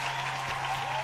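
Steady applause from an audience fills the moment, fairly faint and continuous with a dense clapping texture and no voices over it.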